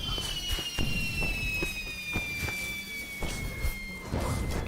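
Blue fireworks burst over and over in the LOTRO game world, with repeated crackling pops and thuds and a few high whistling streaks trailing downward through a busy, dense soundscape.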